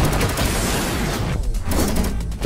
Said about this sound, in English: Hostile! Opening fire!